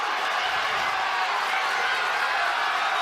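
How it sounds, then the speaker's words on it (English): A boxing crowd at Edgar Berlanga's fight against Alexis Angulo roars continuously, a dense, loud wash of cheering with no break throughout. "The crowd finally getting into this fight as he lands a good right hand here"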